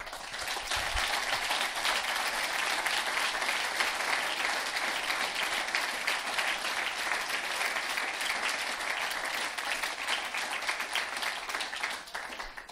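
A large audience at a Dutch education presentation applauds the committee, a dense, sustained wash of clapping that carries on evenly for over twelve seconds.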